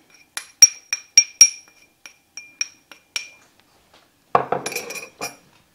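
Baking soda goes into a mixing bowl of Hawaiian pineapple banana bread batter: a run of sharp, close metallic clinks from a measuring spoon against the bowl, slowing and fading, then a short rough scraping rustle, with no talking.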